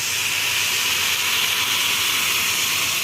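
Boiling water pours onto lentils and rice for Egyptian koshari, a steady close hiss and rush of liquid that holds evenly for the whole few seconds.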